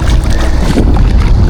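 Strong, steady wind roaring across the microphone at an outdoor fishing spot, a dense low rumble with gusty buffeting throughout.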